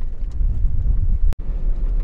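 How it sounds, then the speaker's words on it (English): Steady gusting wind buffets the microphone at an outdoor off-road dirt track, a continuous low rumble throughout with one brief dropout near the middle. "A little windy,"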